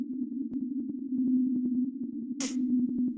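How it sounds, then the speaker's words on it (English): A single whale's 52 hertz call picked up on underwater hydrophones, a steady low droning tone pulsing rhythmically throughout, with a brief hiss burst near the end. "It's the sound that only one whale in the world makes"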